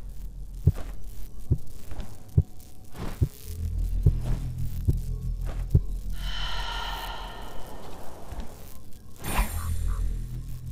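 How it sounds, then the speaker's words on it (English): A heavy heartbeat thumps at a steady slow pace in the video game First Dwarf, low throbbing beats under a hum, with a breathy gasp and rushing swell partway through. "Trying to figure out what all that heart beating is about."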